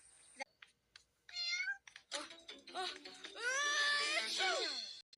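A cartoon cat meows in a Paw Patrol episode, giving several drawn-out, wavering cries in short bursts between gaps of silence, fairly close and clear.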